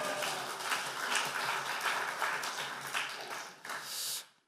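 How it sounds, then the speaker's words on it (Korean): A church congregation claps to welcome the pastor, a dense, steady wash of many hands filling the room for several seconds before tapering off near the end. "할렐루야로 하나님께 영광 돌리며 박수로 환영하시겠습니다"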